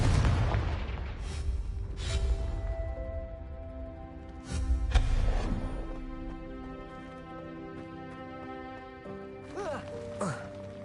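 An explosive spell going off in the Hogwarts Legacy video game, several heavy booming blasts spaced a few seconds apart over sustained musical tones, with a voice talking in the clip.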